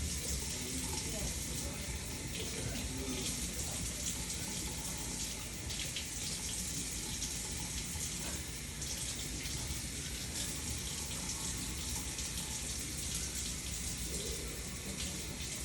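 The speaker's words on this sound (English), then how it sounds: "So now we'll rinse the leaves just to make sure any dust and whatnot can come off of them." Tap water runs steadily from a faucet as cucumber-pickling leaves are rinsed under it in a home kitchen, a continuous broadband rush at constant level for the whole stretch with no talk.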